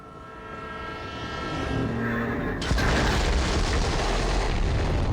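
A train in Borderlands 3 rumbles past as a steady low roar, then an abrupt loud boom at the midpoint gives way to dense, louder clattering noise through to the end, with no talk.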